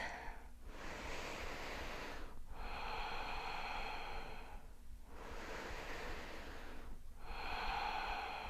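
Deep, audible breaths held through a hatha yoga hip pose, four long airy cycles with short pauses between them, close to the microphone and steady, sounding almost like gentle surf.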